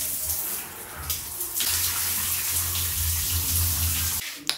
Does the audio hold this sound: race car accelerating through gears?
no